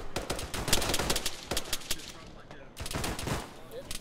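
Dense gunfire in the military video game Arma 3, with rapid overlapping bursts of automatic fire and single shots close by during a firefight, and brief pauses between volleys.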